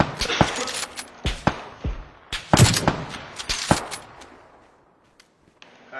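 Rapid gunfire in the video game PUBG, with repeated sharp shots in uneven bursts and metallic clatter in between, fading to near silence before a faint shot at the end.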